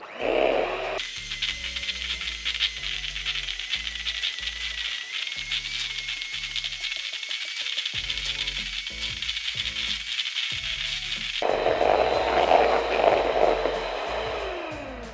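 An electric mixer whirs continuously as it blends cottage cheese with egg for cheese donut dough, with a steady buzzing motor drone and rattling as the beaters turn; the tone shifts and roughens near the end.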